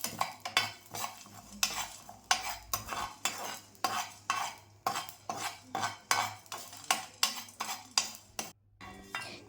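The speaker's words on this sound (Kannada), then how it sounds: "ಚಕ್ಕೆ ಲವಂಗ ಕೂಡ ಹಾಕಿ ಇವಾಗ ನಾನು ರೋಸ್ಟ್ ಮಾಡ್ಕೊತಾ ಇದ್ದೀನಿ" Fennel, cumin, pepper, cinnamon and cloves dry roasting in a pan, stirred with a utensil in a quick regular rhythm of scraping strokes, close and clear, no talking.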